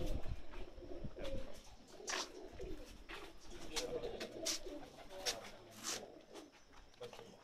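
Flying-competition pigeons coo repeatedly up close in soft, throaty bursts, with other birds chirping and people talking in the background.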